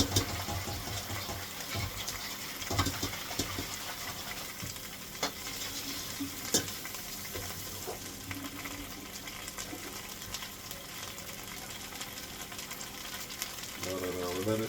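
A beef heart steak fries steadily in a pan, giving a continuous close sizzle and crackle with scattered pops and a few clinks of utensils, and no talking over it.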